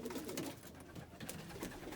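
Pigeons coo softly inside a backyard loft, a steady low murmur with a faint, dense background and nobody speaking.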